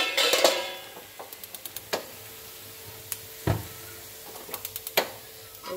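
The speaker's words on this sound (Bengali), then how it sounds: "কষিয়ে নিচ্ছি" Baim fish sautéing with garlic, chili, salt and turmeric in a pan, a steady close sizzle broken by repeated spatula scrapes and taps against the metal, no talking.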